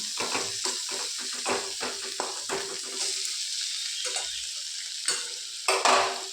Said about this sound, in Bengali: টমেটোটা একটু নেড়ে নিলাম।